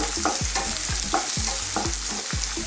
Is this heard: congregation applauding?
no